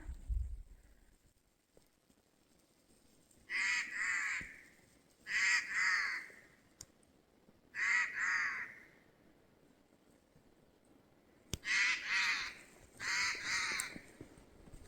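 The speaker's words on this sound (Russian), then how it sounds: "Сорока." A magpie in snowy spring taiga gives several harsh chattering calls in five separate bursts, moderately near, over a still background with faint rustling.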